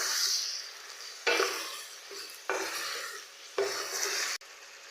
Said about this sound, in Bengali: সবগুলো মশলা একসঙ্গে করে ভালো করে আমি নেড়ে চেড়ে ভেজে নেব।